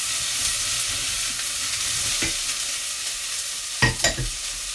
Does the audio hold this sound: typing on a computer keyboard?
no